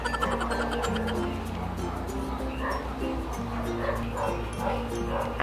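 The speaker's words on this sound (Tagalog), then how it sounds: "Ang ingay na naman ng aso" A dog barks and yips repeatedly nearby in rapid bursts with whimpering tones, steady throughout, while someone talks over it.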